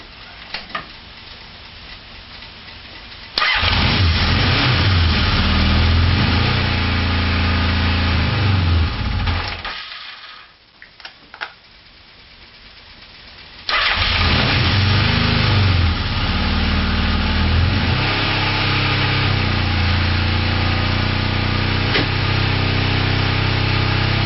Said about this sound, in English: I'm going to start the bike, rev it, and pull plug 1